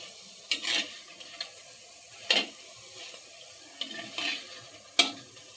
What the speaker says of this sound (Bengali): নাড়াচাড়া করে ভালোভাবে ভেজে নেব। হালকা আঁচে ভাজতে হবে।